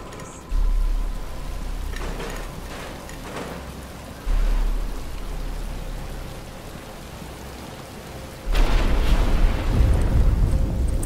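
Rain beginning to fall in the video game Batman: Arkham Asylum, a steady hiss of rainfall with low rumbling swells that grow heavier toward the end, with no voices.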